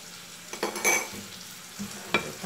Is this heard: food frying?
yes